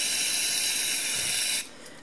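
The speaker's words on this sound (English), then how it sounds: "Spray it in through the fan hole right here." Aerosol cleaner hisses steadily as it is sprayed through the fan hole into a dirty RC brushed motor, a continuous close spray for about a second and a half before cutting off to quieter residual hiss.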